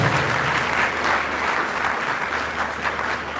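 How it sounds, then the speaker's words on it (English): A ceremonial audience at a university Founders Day event gives a round of applause, dense sustained clapping at a steady loud level throughout, with faint crowd murmur beneath. "Please a round of applause."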